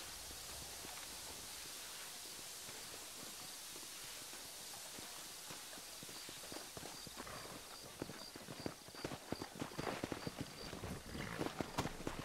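Steady rhythmic clip-clop of hooves at a gallop in the video game Red Dead Redemption, growing louder and busier toward the end over a constant hissing background.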